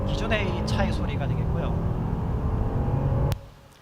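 A car engine runs steadily at close range with a rumbling, revving drone and some shifting tonal whine, then cuts off abruptly near the end.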